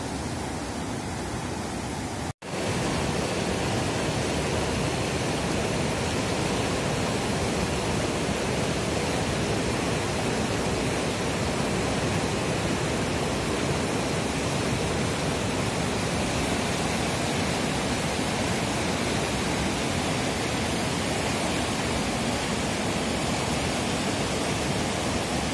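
Cimanuk river flowing below high cliffs, a loud, steady broadband rush of water that fills the whole clip after a brief cut near the start.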